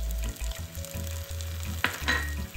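Pork ribs sizzle in a hot pan with three star anise and a small piece of cinnamon bark, a steady close frying hiss with a few stirring scrapes partway through, no voices.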